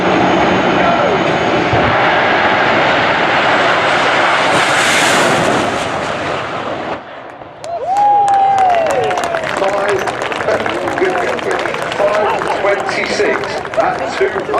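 Fireforce 5 jet car roars down the Santa Pod quarter-mile drag strip, a long loud jet blast that builds and then fades as the car recedes, followed by a crowd murmur and a voice over a PA.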